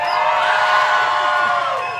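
Crowd noise at the Minnesota State Fair, people gathered under shade trees: a steady, dense wash of many voices and chatter with bright cheering tones, continuous and fairly loud throughout.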